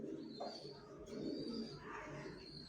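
Racer pigeons coo softly in a loft, low murmuring calls repeating over a faint steady background hum.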